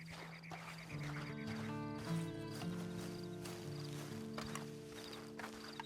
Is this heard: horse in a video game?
yes